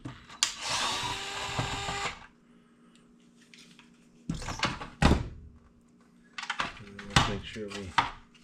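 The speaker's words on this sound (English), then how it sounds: "Here, let's just take these 2 screws out." Screws removed from a Seauto robot pool cleaner during motor replacement: close bursts of a powered screwdriver whirring, with clunks and handling knocks between them; a person talks intermittently over the work.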